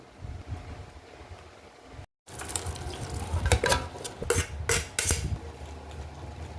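Cooked mung beans being mashed in a pot after chicken feet are removed, giving clattering scrapes and knocks of utensil against metal with some wet sloshing, steady and close, broken by a brief silent gap.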